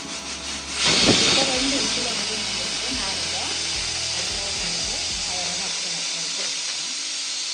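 A pressure cooker whistle vents a loud, steady hiss of steam while cooking kolukattai, starting with a sharp burst and continuing as a constant rushing noise with faint clatter beneath.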